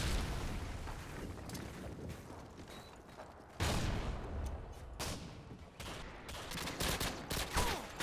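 Submachine gun fire in Call of Duty: Modern Warfare 2, a dense, continuous barrage of rapid shots with mechanical clatter, sustained and loud throughout with a sharper surge midway, no speech.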